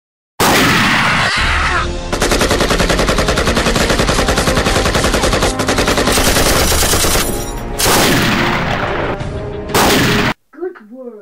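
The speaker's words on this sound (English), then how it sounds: "We hear the shot." Loud bursts of rapid gunfire and machine-gun fire in a Lego Vietnam War animation fill nearly the whole stretch, dense and continuous with brief breaks, then cut off abruptly near the end.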